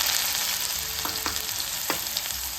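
Chopped onion fries in hot oil with mustard seeds and cumin, producing a loud, dense, unbroken sizzle with a few soft stirring knocks.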